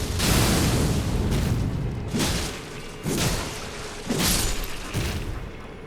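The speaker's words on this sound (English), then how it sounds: "Just a quick little explosion." A spell in the video game Elden Ring sets off a series of four heavy booming explosions at roughly one-second intervals, each a loud broadband burst that decays quickly.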